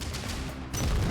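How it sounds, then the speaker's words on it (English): Enemy gunfire in the video game Heart of the Machine: a short, dense burst of shots that swells louder near the end, with no talking over it. "These jerks decided to just warp into existence and shoot at me."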